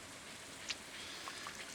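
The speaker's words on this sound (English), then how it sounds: "It's raining today, which is good for that." Rain in the farming video game Stardew Valley, a faint steady hiss of falling rain with a few soft droplet taps, heard alone and quiet.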